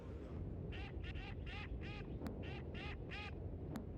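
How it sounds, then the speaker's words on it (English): Ducks in the video game Zelda's Adventure quack in a quick run of about nine nasal calls, clear and fairly close, over a steady low background hum. "Don't you hear the quack, quack, quack?"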